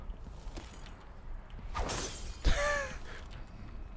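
A glass bottle shatters in the video game Dishonored 2, a bright crash of breaking glass with scattered tinkling fragments, moderately loud and standing alone without talk.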